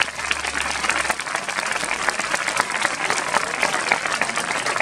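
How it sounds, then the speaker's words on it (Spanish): Applause from an audience at a town festival evening show in Sádaba, dense steady clapping for performers that carries on throughout without talk. "Con que un aplauso para ellos"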